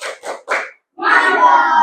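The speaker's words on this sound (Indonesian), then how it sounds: "Kita tepuk hebat dulu. Tepuk hebat." A classroom of children in an Indonesian lesson chants three short rhythmic bursts together, then breaks into a sustained round of group clapping that lasts about a second.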